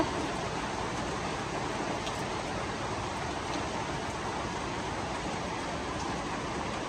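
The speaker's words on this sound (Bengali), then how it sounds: "সব বৃষ্টির পানিতে দিয়ে যাইতেছে" Rain pouring onto a village doorway coated with cow dung, a steady, even hiss of falling water, fairly soft and continuous with no voices.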